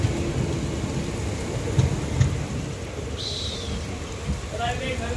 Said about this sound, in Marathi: बघू शकता पाऊस देखील आहे भरपूर